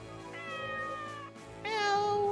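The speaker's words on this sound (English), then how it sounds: "Oh, you have a kitty!" A cat in Story of Seasons: Pioneers of Olive Town gives two clear, close meows, the second one louder and higher-pitched, with soft game music underneath.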